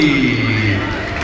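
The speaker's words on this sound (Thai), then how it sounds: "ขอเสียงปรบมือให้อีกสามท่านครับ" Audience applause fills a launch event for ASICS METARIDE running shoes, a steady dense wash of clapping and crowd noise mixed with a sustained background tone, loud and continuous throughout.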